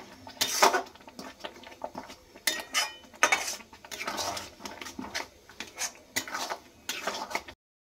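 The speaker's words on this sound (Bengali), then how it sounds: "সব কিছু দিয়ে নিয়ে নাড়াচাড়া করে নেব।" Drumstick leaves with turmeric and chili powder are stirred in a pan for a Bengali bharta, with bursts of metal spatula scraping and clinking against the pan at an irregular rhythm, close and clear, with no talk.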